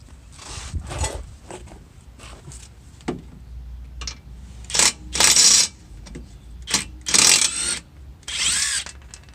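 An impact gun works on brake caliper bolts of a 2002 New Edge Mustang in short repeated rattling bursts at close range, with metallic tool clinks and handling noise between them.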